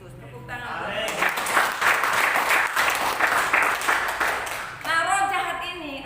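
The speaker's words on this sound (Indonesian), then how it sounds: "Tepuk tangan." A church congregation breaks into applause during a sermon, steady dense clapping for about four seconds between stretches of the preacher's speech, which is heard before and after it.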